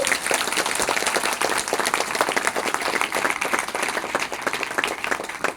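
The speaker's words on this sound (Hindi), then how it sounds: "एक उंगली से ताली बजाइए, एक उंगली से सब लोग, एक उंगली से।" A seminar audience at a company's third-anniversary mega event claps continuously with their fingers, a dense rapid patter of many soft claps that fills the room at steady volume.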